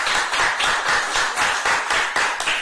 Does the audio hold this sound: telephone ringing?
no